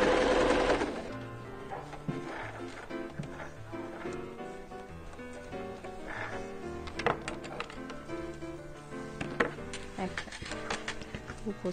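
Sewing machine stitching quilted patchwork fabric for a sewing basket, a steady rapid mechanical chatter running throughout at close range, with a person talking over it.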